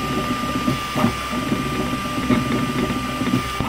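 An Ultimaker 3 3D printer runs quietly and steadily, with a thin constant tone and short bursts that recur every second or so as it retracts filament.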